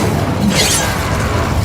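Incendio fire spell cast during combat in Hogwarts Legacy on hard difficulty, a loud sustained whooshing burst that flares bright and hissing near the middle over a steady rumbling bed of game noise.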